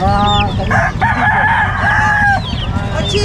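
A Cochin chicken at a pet market in Bocaue crows and clucks close by, with a long drawn crow in the middle and shorter squawks around it, set against a busy crowd murmur.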